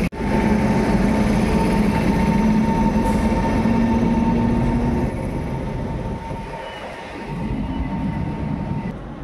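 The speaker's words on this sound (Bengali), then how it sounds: "এই ট্রেন কিন্তু এখন চলে যাবে যে রামপুরহাট স্টেশন রয়েছে এদিকে, সেই রামপুরহাট স্টেশনের দিকে" The Maa Tara Express pulls out of Tarapith Road station, a loud close rumble of rolling wagons with a steady tonal whine that gradually eases, with no talk.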